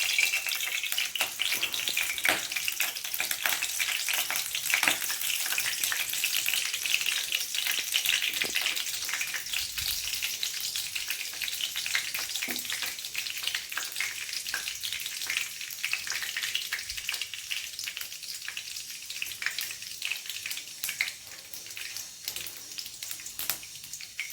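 Mustard seeds and urad dal fry hard in hot oil for a cabbage kootu served with sambar, making a loud, continuous close hiss and crackle with occasional stirring, and no voices.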